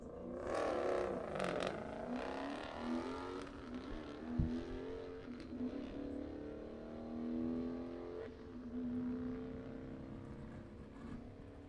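Drag racing cars, a Chevrolet Impala against a Mopar, make engine roars that rise and fall with revving and passing, heard at a distance and fairly faint, with a sharp bang near the middle.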